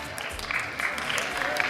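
A crowd at a regional KVN comedy league final in Yakutia applauds the jury, a brief burst of steady clapping with a murmur of voices mixed in.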